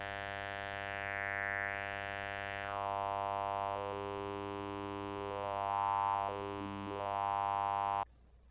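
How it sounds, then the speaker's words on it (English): Formant-filtered synthetic tone built in Unreal Engine 5, a steady buzzy harmonic drone whose resonances glide between different vowel-like colours, sustained and continuous for about eight seconds before cutting off abruptly. "I'm just boosting different frequencies, and suddenly it just sounds like vowels."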